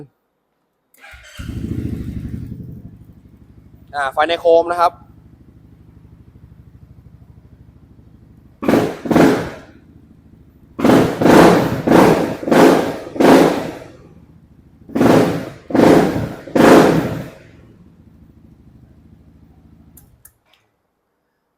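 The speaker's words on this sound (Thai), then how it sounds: "เดี๋ยวฟังเสียงเครื่องนะครับ" A 2021 Honda Forza 350 scooter cranks and starts with a rev, then idles steadily while the throttle is blipped in a series of loud, evenly spaced revs. Someone speaks briefly early on.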